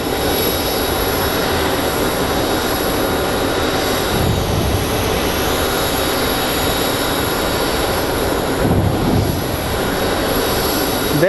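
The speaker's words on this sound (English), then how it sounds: "There's our United flight." A United jet airliner near Sky Harbor airport gives off a steady, loud broadband engine roar that stays constant throughout, with no talk.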